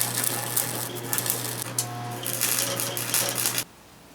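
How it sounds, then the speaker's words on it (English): Tack welding the corners of a scrap-steel cargo carrier, with a steady close crackle and buzz from the welding arc that carries on for several seconds and then cuts off abruptly. "So I'm just going to tack these corners and get it all set up."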